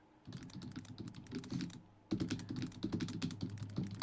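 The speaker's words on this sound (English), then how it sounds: "I'm typing with one hand." Rapid keystrokes clatter on a computer keyboard, typed with one hand, in two dense bursts separated by a brief pause, close and steady with no talking.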